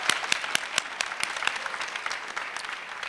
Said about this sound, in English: I think we should applaud for them before they tell you the results